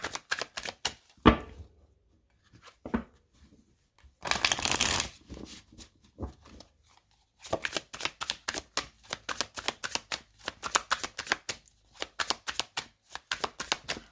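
Tarot cards shuffled and cut by hand, with scattered riffling flicks, a dense burst of shuffling, then a long run of rapid, close card snaps, with no talk.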